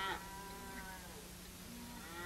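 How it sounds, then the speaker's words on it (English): Cattle lowing on open ranch land in a 1935 western, a long sustained moo with a steady low harmonic drone lasting through the clip, moderately distant and alone without talk. "let's get those cattle back before we lose some more of them"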